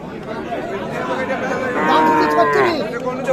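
Cattle moo loudly amid a busy crowd of chattering voices at a livestock market, with one long, drawn-out low call rising over the background talk.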